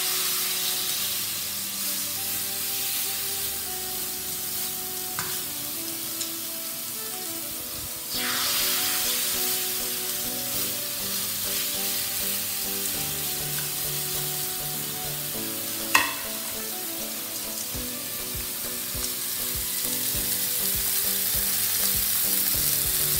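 Chicken breast goes into a hot pan for pan grilling and sizzles in a continuous, moderately loud frying hiss, with occasional spatters and one sharp clack partway through.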